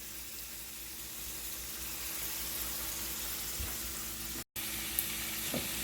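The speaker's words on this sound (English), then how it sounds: "Now I'm going to add my meat inside and mix it" Meat being turned into frying party jollof rice, a steady sizzle running throughout with a brief dropout near the end and faint clinks of stirring.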